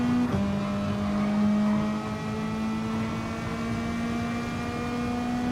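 A race car engine at Suzuka accelerates out of the hairpin, a steady droning tone that climbs slowly in pitch as it pulls away, loud and continuous with no talking.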